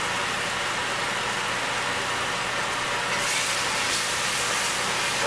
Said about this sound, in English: Sorry, I gotta run that fan.